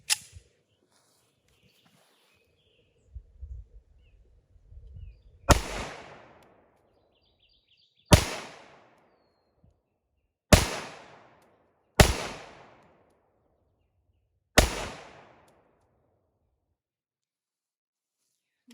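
Five sharp, loud gunshots from a WWI-era Colt 1911 pistol, spaced a few seconds apart, each a sudden crack with a short echoing decay outdoors, preceded by faint handling noises.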